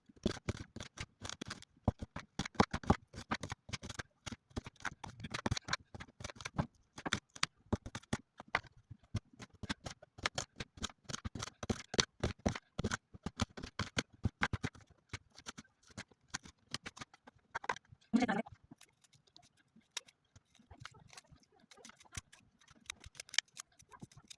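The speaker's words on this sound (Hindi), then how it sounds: "तो ये देखिए प्याज़ और टमाटर काट के फिनिश हो चुका है।" Knife chopping onions and tomatoes on a cutting board, rapid close taps in quick bursts with brief pauses, ending in a few scattered cuts and quieter handling.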